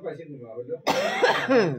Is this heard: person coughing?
yes